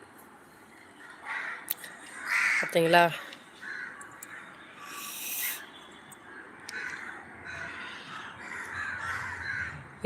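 Crows caw loudly at food left out for birds, a few sharp close calls in a burst near the start followed by scattered fainter caws, while a person talks over them.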